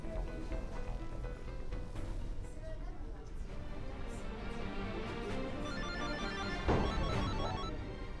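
An unanswered telephone rings repeatedly in an electronic tone over a background of other sounds and voices, continuing steadily with a louder burst near the end.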